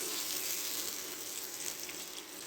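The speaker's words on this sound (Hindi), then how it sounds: "यहाँ पर हम प्याज को लाइट सा फ्राई करेंगे" Onions lightly frying in oil for a beef keema pulao, a steady soft sizzle that holds evenly throughout, fairly quiet and with no voices.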